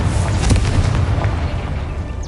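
A Confringo spell explosion in the Hogwarts Legacy video game: a loud, booming blast with rumbling crackle that holds through about two seconds before fading slightly.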